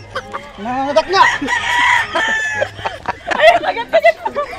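Chickens cluck and a rooster crows loudly up close, with sharp bursts of squawking and a voice shouting in between.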